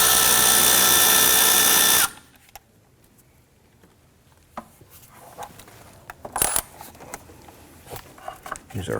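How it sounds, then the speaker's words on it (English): A power tool whirs loudly for about two seconds while loosening hose clamps on the air intake tube of a 1993-1997 Ford Ranger 3.0L, followed by quiet scattered clicks and light tool taps. "I'm going to go ahead and loosen the clamps."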